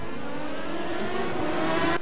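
Race cars accelerating off the start in a sim racing game, an American Le Mans-style team series: a loud, continuous engine whine that rises in pitch as the field builds speed, with no talking.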